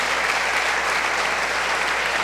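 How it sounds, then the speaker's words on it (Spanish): Steady, dense applause from a church congregation at a 65th anniversary celebration service, continuous and full throughout without a break. "Brindemos un fuerte aplauso al Señor"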